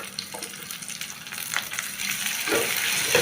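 Green chili, ginger-garlic paste and curry leaves sautéing in hot oil for a prawn and mango curry, a steady close sizzle with a few stirring scrapes, no talking.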